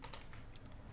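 Computer keyboard keys being pressed, a couple of faint soft clicks near the start over a low background hum, with no talking.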